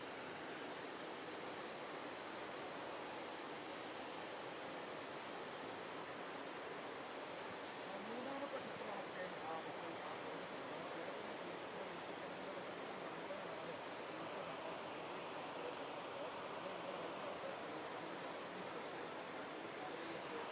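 Water surges through the opened first shutter of Malampuzha dam, a broad continuous roar heard from a distance, steady and unbroken for the whole stretch.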